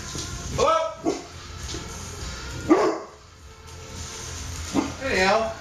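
A dog barks indoors in a few short separate bursts spread across several seconds, close and fairly loud, with quieter room noise between the barks.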